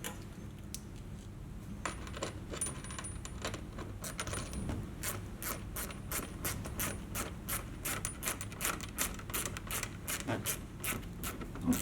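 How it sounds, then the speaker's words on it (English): A Phillips head screwdriver drives screws into a fender flare on a 2024+ Polaris Xpedition, ticking out a rapid run of close, quiet ratcheting clicks that speed up and slow down over a soft background. "Now we're going to take our Phillips head screwdriver"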